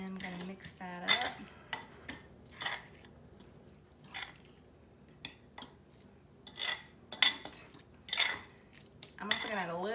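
Canned tuna and salmon being mixed in a bowl with a utensil, a series of close clinks and scrapes against the dish in irregular bursts, with brief talking between them.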